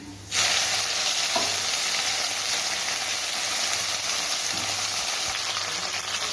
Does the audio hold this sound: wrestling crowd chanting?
no